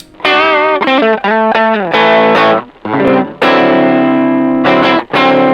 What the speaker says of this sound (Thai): ลองเอามาบูตกับเสียงแตกอ่ะเสียงดิสโทชันด้วยนะครับ